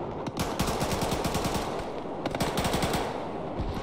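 A DShK heavy machine gun firing in Arma 3, sustained rapid automatic bursts with dense, evenly spaced shots and a brief pause midway, loud and close with no speech.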